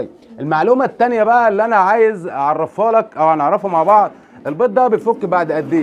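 Domestic baladi pigeons coo softly in the background while someone talks close by almost without pause.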